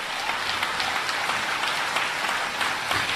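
A large audience at a Bageshwar Dham Divya Darbar religious gathering in Fiji breaks into sustained, dense applause, loud and even throughout with no voices.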